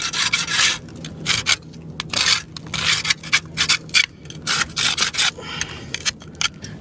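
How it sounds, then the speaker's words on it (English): Creosote being scraped off a copper heat collector pipe from a wood-stove chimney with a homemade tool, a series of close, rough rasping strokes in irregular bursts with short pauses between them. "I just scrape off the creosote."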